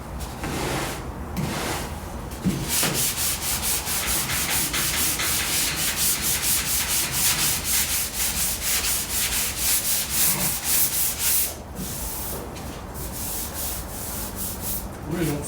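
Hand block sanding on a Porsche 356 body with worn sandpaper: a steady, close rasping scrub in rapid back-and-forth strokes, continuous and loud with a brief pause near the end, no talking.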